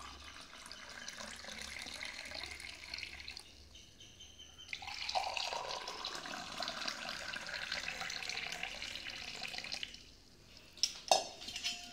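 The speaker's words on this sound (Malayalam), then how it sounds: "അതിലേക്ക് നമ്മൾ ഉണ്ടാക്കി വെച്ചിട്ടുള്ള ചെമ്പരത്തിയുടെ ജ്യൂസ് ഒഴിച്ചു കൊടുക്കാം" Hibiscus juice pours into glasses: a soft, continuous liquid stream, quiet and close, that pauses, resumes more strongly, then ends with a brief clink of glass.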